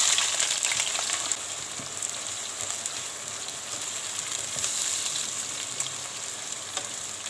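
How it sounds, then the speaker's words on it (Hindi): Onions fried in hot oil for chicken biryani, a steady, loud close sizzle and crackle that runs on without a break and with no talking. "ऑयल हमारा गर्म हो गया अच्छे से। तो अब मैं यहाँ पर इसमें डालूँगी प्याज"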